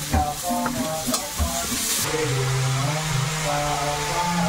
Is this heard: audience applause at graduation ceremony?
no